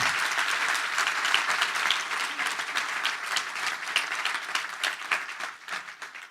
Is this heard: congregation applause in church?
yes